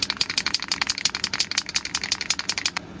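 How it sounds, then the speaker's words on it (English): An aerosol spray can of white plastic primer is shaken vigorously, the mixing ball rattling inside in fast, even, close-up clacks throughout. "As with all cans, you have to give them a good shake."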